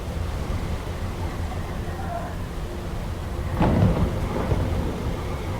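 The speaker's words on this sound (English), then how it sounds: "The storm is coming." In the video game Will: Follow The Light, a thunderstorm brings steady rain, and a loud thunder crack breaks through a little past the midpoint before rolling off under the continuing downpour.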